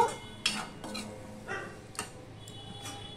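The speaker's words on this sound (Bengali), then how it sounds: "এবার মশলাটা ভালো করে আমি কষিয়ে নেব" Spice paste with turmeric and a splash of water being stirred and fried in a pan for Bengali bata fish curry, a few close utensil scrapes and clinks at irregular intervals over a faint background hum.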